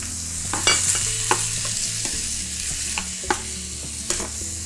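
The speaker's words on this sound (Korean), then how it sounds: "토마토 소스를 활용하실 건데, 자, 소스를 넣으시고 여기 별도의 물은 들어가지가 않아요." Store-bought spaghetti tomato sauce poured into a pan of cooking vegetables for ratatouille, with a low simmering sizzle under several sharp spoon-and-pan clacks and scraping stirs, no voices.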